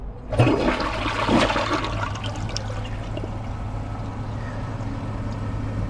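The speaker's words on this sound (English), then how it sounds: "Here's a flush with a dry bowl." A 2025 Kohler Highline Arc toilet flushing into a dry bowl: a sudden close rush of water that stays loud and steady, with gurgling and trickling and a low hum underneath, and no talking.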